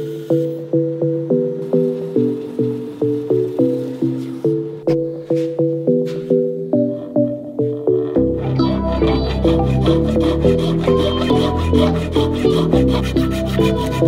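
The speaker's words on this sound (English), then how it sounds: "So I just cut it with a hacksaw blade, any fine tooth, any wood saw with fine teeth is great." A fine-tooth hacksaw blade cutting an arrow rest into a wooden reflex-deflex bow, in rhythmic back-and-forth strokes that are close and loud, then a denser, busier stretch of sawing.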